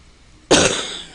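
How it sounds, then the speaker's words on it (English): A single sharp cough bursts out close by after a brief quiet moment, then fades quickly. "Sorry for the coughing."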